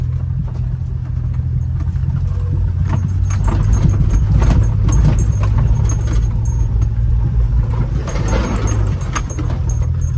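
A Honda mini truck drives across farmland in second gear, its small engine humming steadily and loud up close, with rattling and jangling from the cab over rough ground.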